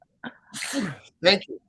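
A single sharp sneeze from a man bursts out in the middle of a casual conversation about Florida real estate, flanked by brief bits of nearby speech.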